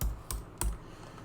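Three quick keystrokes on a computer keyboard, each a sharp close click evenly spaced over about a second, with nothing else audible.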